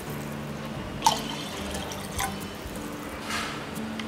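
Water poured into a cooking pot for millet porridge, faint splashing and dripping with a few distinct drips standing out against a low background hum.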